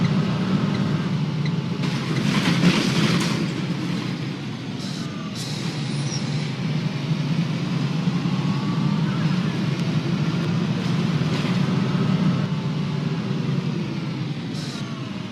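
A Volvo B7L Wright Eclipse National Express bus in the simulator game Omsi 2 drones steadily as it drives, with a few sharp air-brake hisses breaking over the continuous engine hum.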